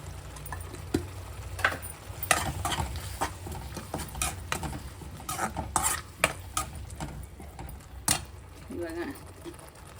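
Spices for mint rice are stirred and fried in a pan, with scraping and clinking of a spoon against the metal in irregular bursts over a soft sizzle, heard close up.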